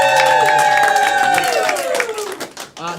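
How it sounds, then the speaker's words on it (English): A comedy club audience cheers, whoops and claps loudly, with rising and falling shouted voices over scattered applause that thins out toward the end. "He said as the crowd went absolutely insane."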